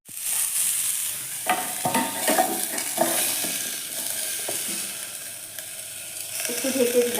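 Papaya pieces sizzle in hot mustard oil in a pan while being stirred, a steady frying hiss broken by scraping and clinking spatula strokes, close up, with a voice speaking faintly at times.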